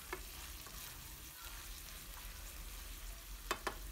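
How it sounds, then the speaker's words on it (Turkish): Ground meat sizzles steadily in olive oil in a hot pan, with a couple of brief scraping stirs near the end. "Evet, kıymam kavruldu."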